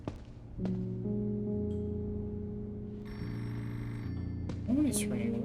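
A telephone rings in a quiet indoor scene, its electronic tone repeating steadily at moderate volume with a short burst of other sound partway through.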